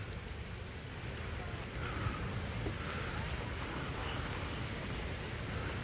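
Steady rain falls under a huge tree on Coconut Island in Hilo, Hawaii, a dense, even hiss that is close and constant throughout with no other sounds on top.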